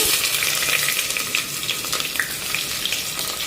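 Onion and green chilies frying in a pan for a traditional curry with jackfruit seeds and moong dal vadiyalu, a steady close sizzle with faint scraping stirs, no voices.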